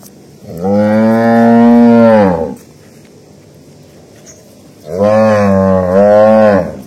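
A cow gives two long, loud moos close by, separated by a short pause of quiet background.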